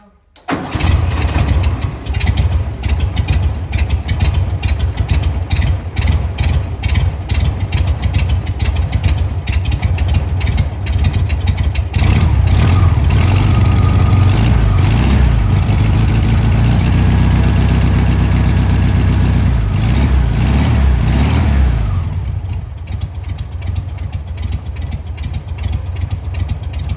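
A 1961 VW bus engine cranks, catches and runs loud and close, with a steady rough idle that continues throughout and eases slightly toward the end.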